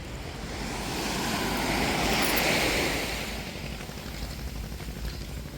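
Waves wash onto a seashore during a walk along the beach, a continuous rushing surf that swells louder in the middle and eases off, mixed with some wind noise and no talking.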